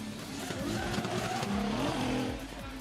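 A Nissan S15 drift car at a D1GP round in Malaysia, the engine revving hard with a rising and falling pitch and tires skidding, heard from a moderate distance.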